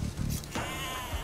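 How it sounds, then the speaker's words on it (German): Sheep bleating in the video game Age of Empires 2 DE, a few short nasal bleats close up over faint game background sounds. "Gott, sind da noch viele Schafe."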